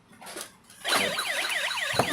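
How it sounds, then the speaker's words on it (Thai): A battery-powered toy police motorcycle sounds a warbling electronic siren. After some faint handling noise it switches on loudly and repeats a fast rising-falling wail, close to the microphone. "มีเสียงหวอเลยนะครับ"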